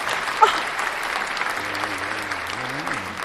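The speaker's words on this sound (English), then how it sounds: "Round of applause, please." An audience claps in steady applause, a dense even patter at moderate distance that holds throughout, with a voice briefly speaking over it near the end.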